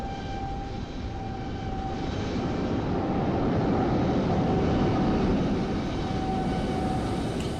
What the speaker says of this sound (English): can always watch this aircraft just come in